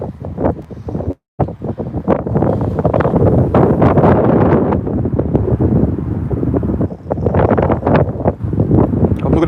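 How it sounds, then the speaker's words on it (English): Heavy wind buffeting the microphone on top of Kinnoul Hill, a loud continuous roar with gusty surges and a brief dropout near the start, close and overwhelming. "The top of these hills are always windy."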